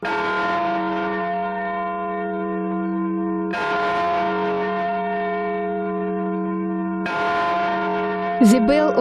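A church bell tied to the Crimean War at Sevastopol tolls three times, each deep, ringing strike decaying slowly before the next, with a brief higher warbling sound at the end.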